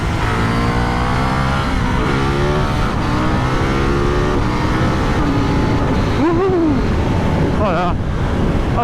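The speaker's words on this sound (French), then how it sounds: "Ah, ce moteur toujours aussi vivant." A motorcycle engine revs and pulls through its gears on a test ride on Mitas Sport Force tyres, loud and close, with strong wind rush over the microphone throughout.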